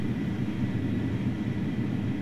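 A fixed-wing airplane engine in Arma 3 roars at takeoff as a steady, loud low drone, continuous and alone.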